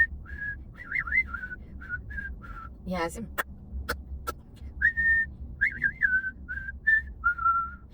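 A person whistles a lilting tune in short melodic phrases, interrupted midway by a few sharp clicks and a brief spoken word.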